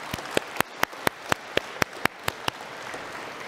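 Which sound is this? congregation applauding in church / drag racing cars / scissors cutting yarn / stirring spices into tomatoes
congregation applauding in church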